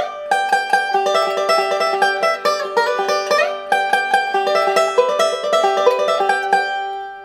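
Banjo rolls picked with pointed picks ring out up close in a fast, steady run of bright, crisp plucked notes that fade out at the end, with no voices.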